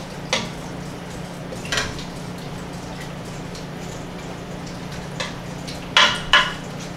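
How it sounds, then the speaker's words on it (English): Kimchi being stirred into pork belly in a pot: a low steady simmer hum with a handful of sharp utensil clinks against the metal, the loudest pair near the end. "we're just gonna stir the kimchi in"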